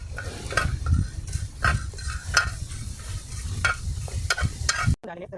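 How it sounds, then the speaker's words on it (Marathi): Masala roasting in half a spoon of oil for homemade misal, with rhythmic spoon scrapes against the pan over a low sizzle, close and steady, stopping abruptly near the end. "या अर्ध्या चमच्या तेलामध्ये आपण हा मसाला भाजून घेणार आहोत"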